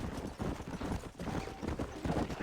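Galloping horse hooves in the Red Dead Redemption video game, a loud, continuous clatter of rapid hoofbeats with a possible faint whinny, filling the whole moment without talk.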